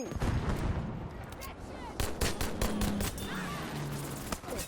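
Machine gun fire rattles in the video game Battlefield V, with rapid bursts and scattered shots layered over battlefield noise and a few tonal honks.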